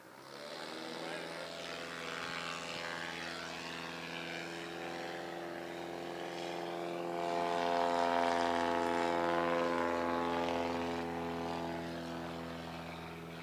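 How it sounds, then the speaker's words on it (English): A Badlands Traveler STOL aircraft taxis at a fly-in STOL competition in Valdez, its propeller engine droning steadily with a strong harmonic hum that swells midway, while an announcer talks over it. "Levi Nogues taxiing up now in the Badlands. Traveler."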